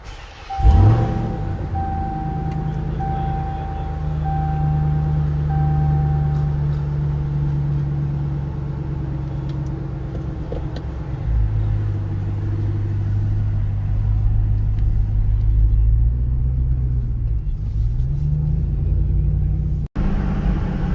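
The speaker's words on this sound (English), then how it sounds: "Here's what a start sounds like, a warm start sounds like from inside the truck." A Ram TRX fitted with an AWE exhaust warm-starts, heard from inside the truck with the top and rear window slightly open: a sharp cranking burst, then a deep steady idle rumble that shifts lower and continues for about twenty seconds.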